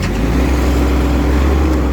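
Diesel engine of a Kubota GL21 four-wheel-drive Japanese mini tractor, running close up with a steady, even low rumble and no talking.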